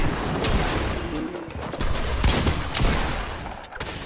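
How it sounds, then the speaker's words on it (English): Bursts of video-game gunfire, a run of rapid shots and scattered single cracks at mid distance, heard alone over a noisy background. "Did you hear the shots just now?"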